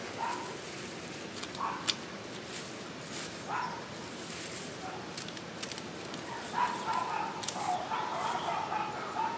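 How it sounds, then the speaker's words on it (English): Dogs yip and bark intermittently in the distance, a few scattered bursts over steady background noise. "Have to excuse the dogs in the background."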